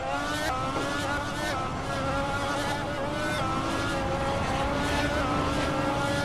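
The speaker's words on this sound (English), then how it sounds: "this, folks, is why we don't use the F1 cars in the game" An F1 race car engine in a video game screams at high revs with sharp gear-change steps, loud and close throughout, its whine rising and dropping with no talk over it.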